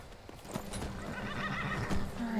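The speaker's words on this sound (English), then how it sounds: "Alright, Lydia, get your horse" Horse in the video game Skyrim gives a loud, close whinny, with clip-clopping hooves under it.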